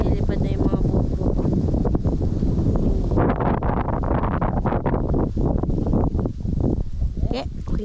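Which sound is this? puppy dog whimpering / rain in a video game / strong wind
strong wind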